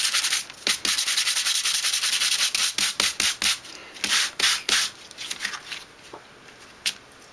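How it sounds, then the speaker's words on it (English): Sandpaper rubs over an acrylic-painted background in quick, steady back-and-forth strokes, a close, scratchy rasping that keeps an even rhythm before thinning out into a few slower strokes. "So you would sand just the top."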